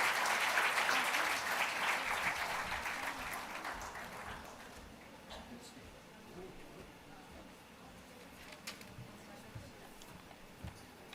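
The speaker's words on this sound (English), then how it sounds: "So one round of applause for him" An audience at a medical conference session applauds a speaker, a dense sustained round of clapping from a hall full of people that is loudest at the start and gradually thins out and fades.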